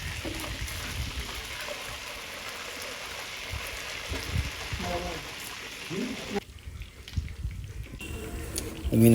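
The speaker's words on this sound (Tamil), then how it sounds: "இதை அப்படியே பரட்டிட்டு அதே மாதிரி இன்னும் ஒரு 5 நிமிஷம் இந்த சைடு ஃபுல்லாக வேகிற வரைக்கும் ஃப்ரை பண்ணிக்கலாம்" Green masala fish fries gently in a pan over a low flame, giving a steady, soft crackling sizzle that drops briefly as it is disturbed, with someone speaking over it.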